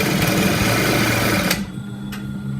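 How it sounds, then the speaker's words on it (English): A sewing machine runs in one steady, close burst while stitching a sleeve into a garment armhole, then cuts off abruptly partway through and leaves the room quiet. "I'm going to start my stitches straight."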